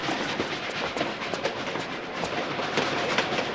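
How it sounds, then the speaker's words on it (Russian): A moving train in Tomb Raider: The Last Revelation rolls past with a continuous rumbling roar and rhythmic clickety-clack of wheels over rail joints, loud and steady throughout. "Когда смотришь на движущийся поезд со станции, возникает какое-то странное желание подойти ближе."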